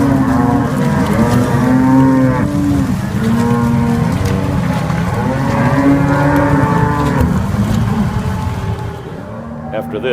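A herd of cows, calves and bulls in Florida moos repeatedly and loudly on a cool morning, overlapping calls layered over steady ambient noise, with a person speaking in the background.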